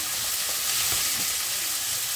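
Tomatoes hit hot oil in a pan while cooking thukpa with pork, giving a soft, steady sizzle and frying hiss with faint stirring.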